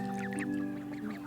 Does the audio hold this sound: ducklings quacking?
yes